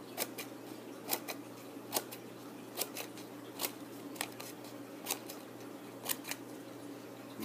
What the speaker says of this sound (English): if you cut right up to that crease